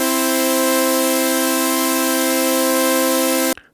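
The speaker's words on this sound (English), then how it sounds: "Just an oscillator with a noise oscillator combined." A dry synth drone built from a tone oscillator combined with a noise oscillator, with no effects: a steady, loud sustained chord-like tone under a hiss that holds evenly, then cuts off abruptly near the end.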